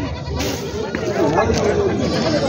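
Goats bleat repeatedly amid a busy, crowded goat and sheep market in Maharashtra, with people talking nearby.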